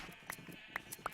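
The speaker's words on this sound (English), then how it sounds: "Sometimes some of these sheep can like slip out and release other sheep." Sheep bleat in Minecraft, several short calls spaced about half a second apart over a low, steady game background, with no voices present.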